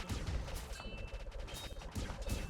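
An artillery barrage in the Kingdom Rush Frontiers tower-defence game fires as a quiet run of booming, crackling explosions that overlap in quick succession.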